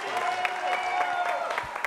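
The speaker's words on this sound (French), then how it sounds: "On va les applaudir très fort encore, s'il vous plaît." Brief audience applause for dancers at a live French show, a steady patter of clapping running under a voice and what sounds like music.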